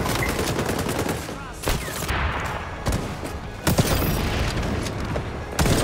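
Assault rifle fire in the shooter game XDefiant, several sharp shots and short bursts cracking out over dense battlefield noise, with a player talking intermittently.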